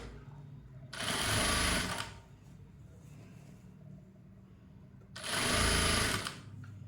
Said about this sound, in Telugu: ఇలా స్టిచ్ చేసుకుంటూ వెళ్ళిపోవాలి.